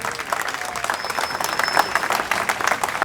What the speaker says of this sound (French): S'il vous plaît, vos applaudissements pour l'équipe du Nîmes Métropole Jazz Festival